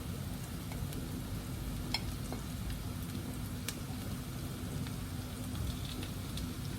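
Onions sautéing in a pan as butter melts over them, giving a steady, close crackling sizzle with faint pops throughout and no voices.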